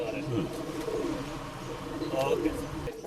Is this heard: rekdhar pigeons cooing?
yes